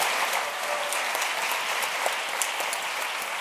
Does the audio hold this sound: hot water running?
no